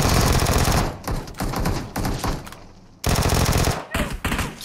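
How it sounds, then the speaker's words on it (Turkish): Automatic gunfire in PUBG Mobile rattles out in loud, close bursts, separated by short gaps of quiet, with a faint voice briefly under the shots. "Kim sıkıyor? Kim sıkıyor?"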